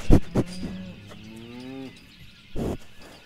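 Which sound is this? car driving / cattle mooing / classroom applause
cattle mooing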